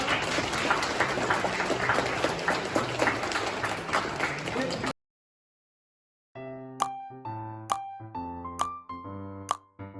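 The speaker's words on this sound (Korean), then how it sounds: "박수 한 번 부탁드리겠습니다" A seated audience at a student semiconductor presentation claps in a dense burst of applause that stops abruptly, followed by silence and then sparse tonal sounds.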